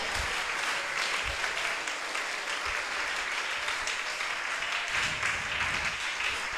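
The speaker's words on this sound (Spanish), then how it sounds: "Del aplausos con el alma al Señor Jesucristo" A church congregation applauds continuously, a dense even wash of clapping with no break and little voice above it.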